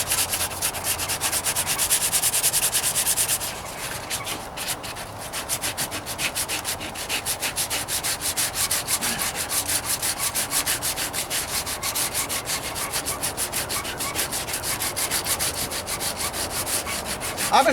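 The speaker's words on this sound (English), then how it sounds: "I've been finding that I've been really enjoying doing this sanding and body work." Wet sanding with soapy water on the trunk and rear bumper of a 1998 Toyota Corolla: steady, close rubbing strokes in a fast rhythm that continue evenly throughout, with no talking.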